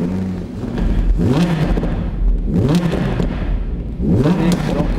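An Audi R8 V10 safety car with 610 horsepower at the Nürburgring 6 Hours fires up and revs, rising and falling in three surges, loud and close, with a voice talking over parts of it.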